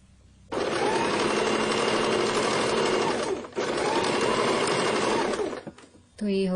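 A sewing machine stitching blouse fabric runs in two steady, loud bursts of rapid mechanical whirring with a brief pause between them, then stops, followed by a short rustle at the end.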